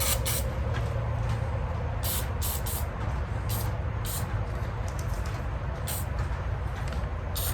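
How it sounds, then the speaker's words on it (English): Cleaner is sprayed into rusty AR-15 rifle parts in several short hissing bursts, close and irregularly spaced, over a steady low background rumble. "I'll spray up in here."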